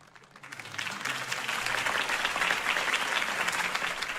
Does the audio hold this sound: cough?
no